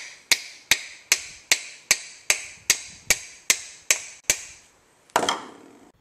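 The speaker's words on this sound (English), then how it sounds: "I'll use a light blow with the hammer." Eleven sharp metallic taps of a brass hammer on a punch, knocking out a wakeboat ballast pump rotor, steady rhythm, close and crisp, followed by a brief pause and a heavier clattering hit.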